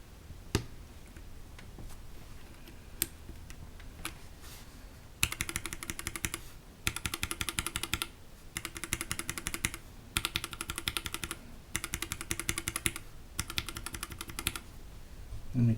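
Gateron Linjar keyboard switches typed close to the mic, one with TX switch film and one without: a few isolated clacks, then dense bursts of rapid clicky keystrokes in rhythmic groups separated by short pauses.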